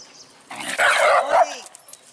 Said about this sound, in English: Such a grumpy old dog.